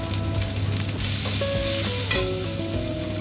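Spice paste with chili and turmeric frying in a pan, a steady close sizzle with stirring scrapes and a brief clink, plus a faint background tone, with no talking.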